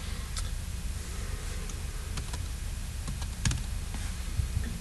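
Keys tapped on a computer keyboard while a name and password are entered, an irregular run of light clicks and a few sharper taps, close by and without any talking.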